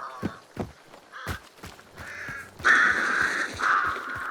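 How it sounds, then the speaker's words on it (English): Crows cawing in the video game Hunt: Showdown, a series of harsh, loud caws from several birds, sparse at first and then overlapping into a dense flurry, with faint footstep-like thumps underneath. "Triggering the crows"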